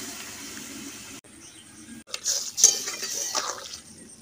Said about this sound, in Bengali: সসের বাটিটাকে ধুয়ে আমি জল দিয়ে দিচ্ছি।